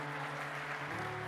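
A church congregation applauds during a sermon, a dense, steady wash of clapping heard from a distance, with a sustained organ or keyboard tone underneath.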